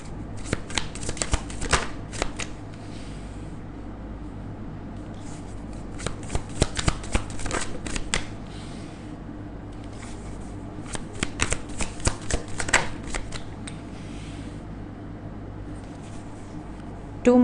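A deck of tarot cards is shuffled by hand at close range. Clusters of quick papery flicks and riffles come in bursts, with quieter rustling gaps between them.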